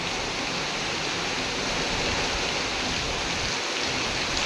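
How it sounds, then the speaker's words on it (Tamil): Wind-lashed heavy rain pouring down in Bangalore, a continuous broad rushing hiss that stays constant and moderately loud, free of speech. "ஃபுல்லு காற்று மழை தான்"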